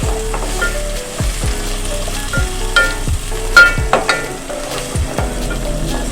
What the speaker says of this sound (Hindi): प्याज को हम थोड़ा सा गोल्डन फ्राई करेंगे